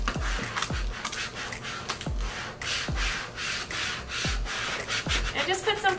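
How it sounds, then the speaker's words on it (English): A squeegee is rubbed firmly over stencil vinyl laid on wood, making repeated close scraping, rubbing strokes with light knocks between passes. "I'm just going to grab my squeegee and run it over to transfer this design onto my wood."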